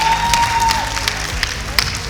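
Applause from a graduation ceremony crowd, a steady dense patter of clapping with a few louder claps, mixed with a faint tone and some background murmur.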